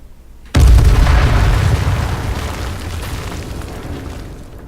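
After a brief quiet, a single heavy explosion in the video game H1Z1: Just Survive booms out suddenly, its deep rumble slowly dying away over several seconds.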